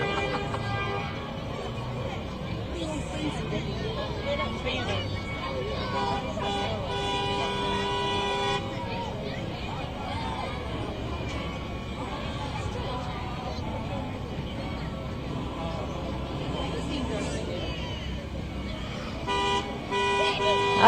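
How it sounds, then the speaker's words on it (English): At a Main Street Christmas parade in Martinsburg, a truck sounds its horn in a series of toots amid crowd noise and other vehicle horns, with people talking throughout. "We got a truck beeping their horn."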